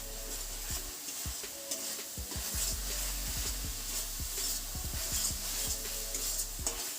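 Ginger-garlic paste and turmeric are stirred into onions in a frying pan, with a soft steady sizzle under repeated spoon scrapes and taps against the pan, fairly quiet overall.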